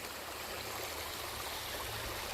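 Stream water in Linn Run State Park flows steadily over rocks, a constant close broadband rush with no voices.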